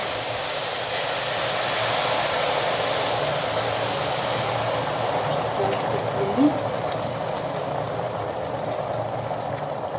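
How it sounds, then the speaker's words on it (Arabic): Half a litre of boiled hot water poured steadily into a bowl of honey, a continuous rushing, hissing wash that runs evenly for the whole stretch with no pauses. "دابا غادي نخوي نص لتر ديال الماء طايب، يكون طايب."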